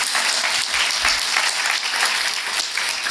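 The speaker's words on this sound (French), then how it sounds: "Et là aussi, vous pouvez les applaudir" Sustained applause from a conference audience honouring partner experts, dense steady clapping filling the room from start to finish without pause.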